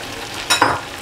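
Green chillies and ginger-garlic paste dropped into hot melted butter, a sudden close sizzle that flares up and then settles into a steady frying hiss.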